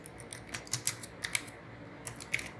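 Fingers type on a computer keyboard in short bursts of crisp, close clicks, with a few quick keystroke runs separated by brief pauses in a quiet room.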